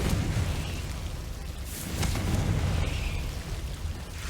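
A Confringo spell explodes in the Hogwarts Legacy video game, a loud, broad blast of rumbling noise that swells and sustains for several seconds with scattered pops and crackles.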